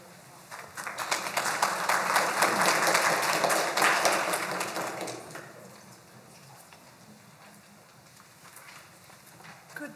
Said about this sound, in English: I tried to get up here fast before y'all stop clapping